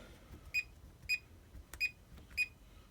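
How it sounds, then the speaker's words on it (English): A keyless deadbolt door lock gives four short, bright electronic beeps, evenly spaced about half a second apart, close and clear over a quiet background. "you press the button and it locks. It beeps once and you can't get in"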